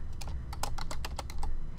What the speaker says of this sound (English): Once you start typing in a place, it generally actually pulls it up for you.